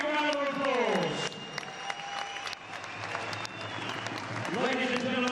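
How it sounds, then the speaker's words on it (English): Crowd applause and cheering fill a boxing arena after a 12-round bout, steady and fairly loud throughout, with an announcer's voice carrying over the noise near the start and end. "Give both these boys a big round of applause."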